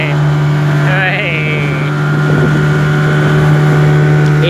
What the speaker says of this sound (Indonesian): Naik speedboat Mas AA